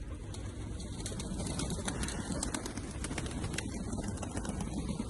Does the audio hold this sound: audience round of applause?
no